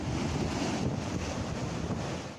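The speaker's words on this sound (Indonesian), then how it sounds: "Gelombang tinggi dan angin kencang menerjang pantai Pondok Bali Subang" High waves and strong wind batter the beach at Pondok Bali, Subang during a tidal surge, a steady loud roar of surf with heavy wind buffeting the microphone throughout.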